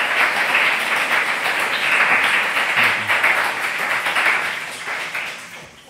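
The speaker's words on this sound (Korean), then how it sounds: "박수로 한번 환영하겠습니다" A church congregation in Madrid applauds to welcome a missionary during a Sunday service, sustained dense clapping from many hands that holds steady and then fades toward the end.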